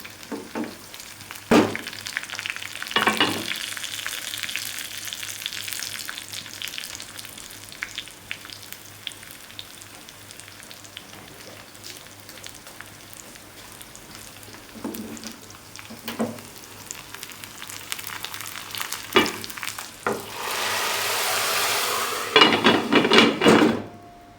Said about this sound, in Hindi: तड़का हम लगा देंगे इसमें